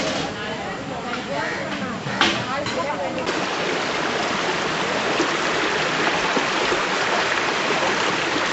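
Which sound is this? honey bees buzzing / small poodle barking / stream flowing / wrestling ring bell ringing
stream flowing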